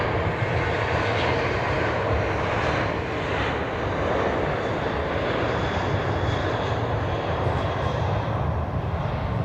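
A Boeing 737-700 jet roars loudly and steadily at Dallas Love Field, a broad sustained engine rush that holds nearly constant from start to finish with no voices.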